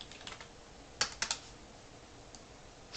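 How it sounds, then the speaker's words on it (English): A few crisp keystrokes tapped on a computer keyboard, a quick cluster of clicks and then a lone tap, fairly faint and close, with no talking. "If I could actually type"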